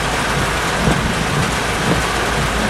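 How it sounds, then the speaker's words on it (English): Heavy rain pounds a car during a Florida summer thunderstorm, with thunder rumbling low beneath the dense, loud, continuous downpour. "And here, thunder, and it's the whole car is shaking."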